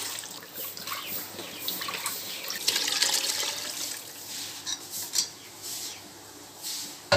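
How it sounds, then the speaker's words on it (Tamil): Water streams and splashes into a metal cooking pot at close range for biryani, a steady pouring rush with a few clinks, no voices. "இப்போ இந்த தண்ணியை பார்த்துட்டு நான் இதில் தண்ணி வைக்கிறேன்."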